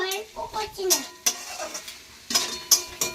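A spatula stirs fried rice in a pan, bursts of scraping and clinking against the metal over a light sizzle, with a voice-like tonal sound in the first second.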